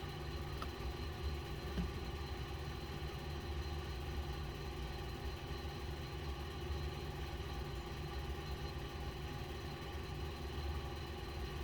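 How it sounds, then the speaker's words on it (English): A large air conditioner runs in the background, giving a constant, even droning hum with no change in level from start to finish and no voices. "if you hear a noise in the background, it's a big air conditioner"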